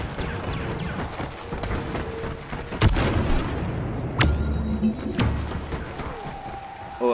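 Heavy blaster shots from an infantry turret in Star Wars Battlefront, a few sharp, loud reports spaced seconds apart over busy battle noise and faint voices.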